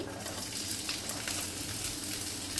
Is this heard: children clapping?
no